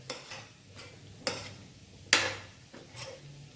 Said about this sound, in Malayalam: മുട്ടയൊന്ന് വീഴുന്നിടം വരെ നല്ലപോലെ ഒന്ന് ഇളക്കി കൊടുത്താൽ മതി